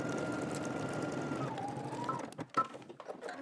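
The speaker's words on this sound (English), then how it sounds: "we're gonna go ahead and start stitching" A sewing machine stitches the neckline and shoulder of a Simplicity S9893 garment, running as a steady close whir for about a second and a half, then slowing and stopping, followed by a few light clicks and handling noises.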